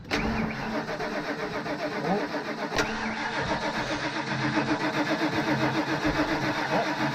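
A car engine cranks and struggles to catch, its starter churning in a close, rhythmic chug with a sharp click partway through, grinding on steadily without firing into an idle.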